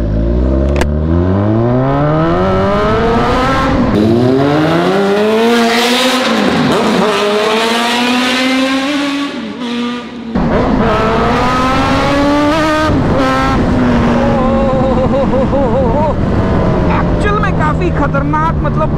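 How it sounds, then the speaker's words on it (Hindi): A Suzuki Katana motorcycle engine runs and revs repeatedly, with rising and falling pitch sweeps. The engine is loud and close, and someone speaks over it. "और ये मैंने स्टार्ट कर ली बाइक और अब लेके चलते हैं"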